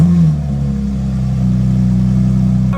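A supercar engine with exhaust silencers fitted revs steadily on a track, a loud, continuous and somewhat muffled drone that holds for about three seconds.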